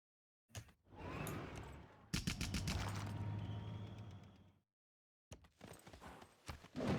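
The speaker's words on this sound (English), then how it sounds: "Why did you let that fucking horse get in?" A galloping horse unit in Civilization VI gives two long, rapid bursts of hoof and clatter noise, close and fairly loud, separated by brief silences and ending in a scattered, choppier burst.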